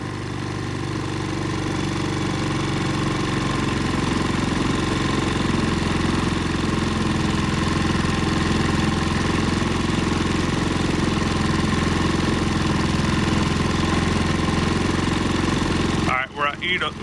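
A Predator 3500 generator engine running steadily at eco throttle after a surging fix, a loud, constant mechanical drone close by that holds even throughout, with a voice briefly breaking in at the very end.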